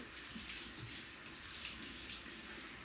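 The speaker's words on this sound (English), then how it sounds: "I'm going to rinse my brush first because it's still got some conditioner in it." Faucet water runs steadily while a hair brush with leftover conditioner is rinsed during doll hair cleaning, a constant soft hiss of flowing water, fairly quiet and without talk.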